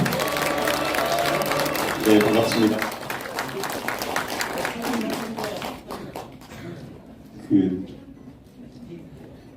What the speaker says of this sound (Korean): 힘찬 함성과 박수로 함께해 주시기 바랍니다